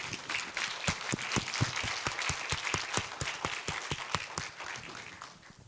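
A small audience claps after a technical talk on mineral flotation, a steady patter of distinct handclaps that is fairly quiet and fades slightly toward the end, with no voices.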